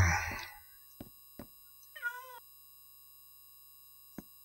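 A cat gives a single short meow in the middle of an otherwise quiet stretch, with a few faint clicks and a brief burst of noise at the start.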